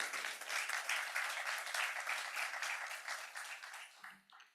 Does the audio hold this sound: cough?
no